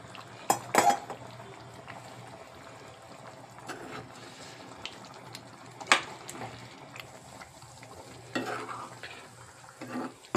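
Country chicken curry with cucumber and tomato stirred in a pot, a spoon scraping and clinking against the metal in scattered bursts over a soft steady simmer, fairly quiet and close with no voices.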